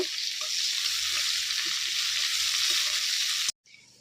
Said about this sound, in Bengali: পেঁয়াজ কুচি দিয়ে নেবো এটা ভালো করে ব্রাউন কালারের করে নেব